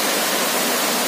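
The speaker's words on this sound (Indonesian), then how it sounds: "di bawah air terjun" A waterfall roars as a broad, steady rushing hiss, close and loud, unbroken for the whole moment with no voices.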